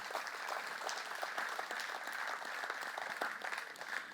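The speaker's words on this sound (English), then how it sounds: "A round of applause for our guys for getting this together." A community safety forum audience applauds, a dense, even wash of clapping held at a moderate, somewhat distant level for the whole stretch.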